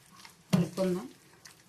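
Thick soaked-lentil garelu batter mixed with salt, giving short wet squelching stirs with a couple of scraping strokes against the bowl, close and fairly soft, a voice faintly present.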